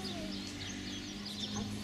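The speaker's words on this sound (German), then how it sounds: "Und wie schön die Vögel zwitschern" Spring birds chirp faintly outdoors near a kindergarten, thin high calls scattered over a steady low hum.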